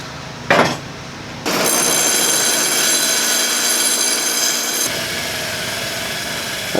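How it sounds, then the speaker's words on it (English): An angle grinder grinds down metal for a lithium-ion battery box on an e-bike conversion. A loud, steady, high whine carries for several seconds, then drops to a lower, rougher grind. "So I'm just going to grind that down a bit,"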